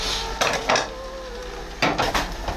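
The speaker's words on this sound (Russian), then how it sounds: "сейчас я нарежу хлеб." Several short crunchy strokes of a knife slicing bread come in two bursts, close and fairly loud, with quiet pauses between them.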